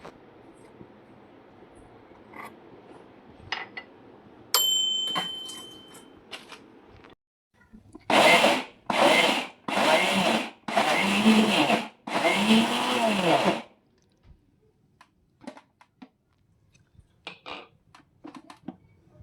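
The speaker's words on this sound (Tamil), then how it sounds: "நம்ம வச்ச ரைஸு, முந்திரி பருப்பு இதெல்லாம் ஒரு கோஸாக நம்ம அரைச்சி எடுத்துக்குவோம்" Rice and cashew nuts being coarsely ground in a mixer grinder: five short, loud pulses of roaring motor noise in quick succession, with quieter handling clicks and knocks before and after.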